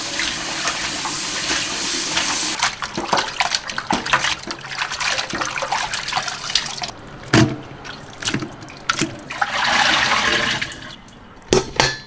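Pork ribs being rinsed under running water in a kitchen: a loud, steady gush and splash with shifting sloshing and sharp clatters as the pieces are handled, then the flow eases near the end.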